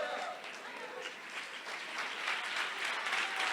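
A church congregation applauds together in a steady, sustained wash of clapping that holds for several seconds and swells slightly toward the end.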